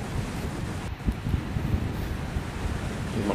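Strong gusty wind blows across a fishing harbour at Lagi, a steady loud rushing roar with buffeting against the microphone and faint water or engine rumble beneath, with no talking.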